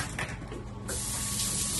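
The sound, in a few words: rinsing hands with soap under running tap water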